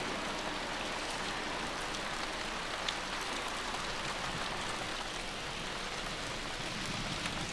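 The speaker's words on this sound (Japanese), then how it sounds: "雨降ってきました。" Rain falls steadily outdoors near a Gundam statue, an even, continuous hiss of drops on surfaces with no breaks, fairly quiet and unaccompanied by voices.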